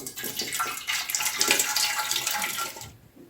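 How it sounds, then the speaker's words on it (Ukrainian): Marinade pours out of jars of pickled assorted vegetables, a close, rushing splash of liquid streaming into a container with gurgles that rise and fall before stopping abruptly, with no talk. "Зливаємо маринад."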